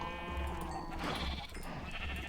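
Sheep bleating in Minecraft, a couple of short nasal bleats close up, with soft game sounds between them.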